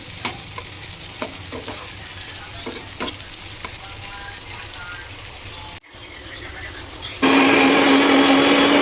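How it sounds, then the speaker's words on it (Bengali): Vegetables and soya chunks fry in oil with a continuous sizzle and scattered clinks from a stirring spoon, then a brief cut before a louder, denser hiss of frying takes over near the end. "ওর সাইডেই তেল ছিল সেখানেই আমি সয়াবিনগুলোকেও দিয়ে দিলাম ভাজার জন্য"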